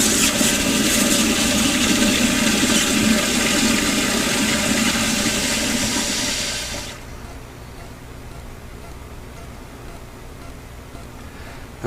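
A Sloan sensor-operated toilet flushes with a loud, steady rush of water for about seven seconds, then cuts off abruptly to a quiet hiss of refilling.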